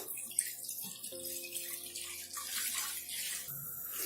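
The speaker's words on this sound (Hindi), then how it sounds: "अब मैं इस दूध को इस कढ़ाई में डाल देती हूँ।" Milk pours into a kadhai, an Indian wok, set on a gas stove, giving a steady liquid splashing and trickling that stays loud and close for the whole stretch.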